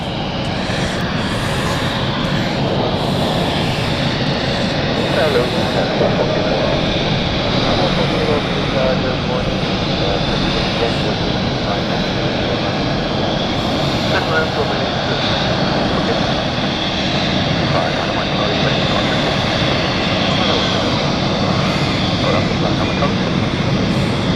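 An airliner at London City Airport roars steadily and loudly throughout, a continuous broadband engine rush with no break, heard alone without voices.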